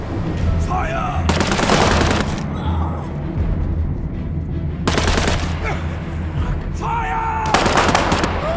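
Gunfire in the video game War Mongrels comes as bursts of rapid automatic fire in two dense volleys, each lasting about a second or more. Shorter shots and scattered game sounds fill the gaps between them.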